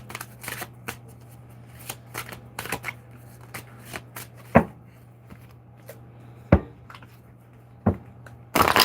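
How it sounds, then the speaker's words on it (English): Decks of cards being shuffled indoors: crisp, papery riffling bursts arrive irregularly, some sharp and loud, over a low steady hum, with no talking. "Tonight, spending time shuffling on my decks."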